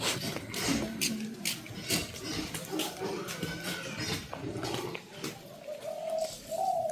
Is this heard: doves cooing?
yes